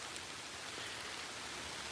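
Steady rain from Hurricane Delta's rain bands pours as an even, hissing wash of drops, continuous and fairly close, with a brief louder rustle at the very end.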